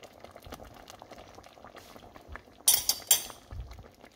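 Vegetables bubble at a steady low simmer in a cooking pot, with a brief burst of bright clinks near the end.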